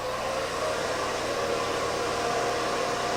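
A hair dryer runs continuously at close range, a steady airy roar topped by a sharp, high-pitched whine.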